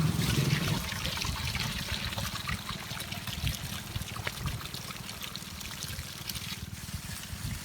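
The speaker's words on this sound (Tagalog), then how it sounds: "Karagahan muna natin ng tubig mga idol" Water pouring steadily into a sprayer tank for treating whiteflies on okra, a continuous trickling splash heard up close at moderate level with no talk.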